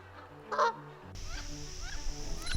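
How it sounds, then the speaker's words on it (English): Canada geese in spring give a sharp, fairly close honk, followed by softer repeated calls against an outdoor background. "like these Canada geese."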